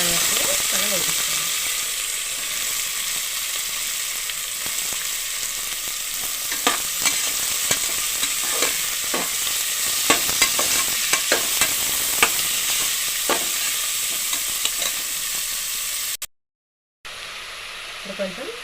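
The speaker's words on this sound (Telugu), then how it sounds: "వేసి మనం వేపిస్తాం" Ridge gourd curry stirred and frying in a pan, a steady close sizzle with repeated scraping clicks of a spoon against metal throughout, broken by a short gap near the end.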